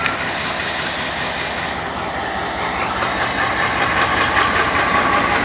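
A vintage CP Rail ALCO 4563 diesel locomotive rumbles steadily in the rain, its engine a loud, continuous drone with a faint rhythmic clatter from the rails and no pauses.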